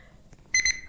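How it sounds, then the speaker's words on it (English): Electronic beeping from the Slenderman video game: a short run of bright, rapid high-pitched beeps that starts suddenly after a quiet stretch, close and loud. "And those beeping sounds!"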